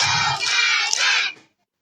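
Children's voices burst out together in a loud group shout with hand claps at a children's storytelling session, a short energetic crowd cheer that cuts off abruptly into silence.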